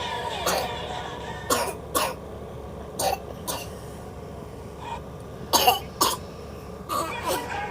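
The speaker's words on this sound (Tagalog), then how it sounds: "Ba't ka nagkaubo ha?" Several sharp coughs and throat-clearing bursts come in scattered pairs and singles, close and fairly loud, over a faint steady background hum with no talk.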